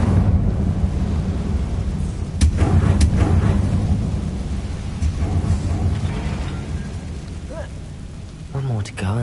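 An Incendio fire spell cast in Hogwarts Legacy bursts out in a few sharp, booming blasts over a constant rumbling, windy background.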